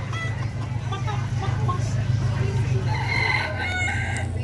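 Chickens cluck in a barn at a country fair, with a rooster crowing loudly near the end over a constant low hum.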